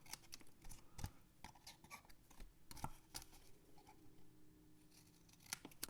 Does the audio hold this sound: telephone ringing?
no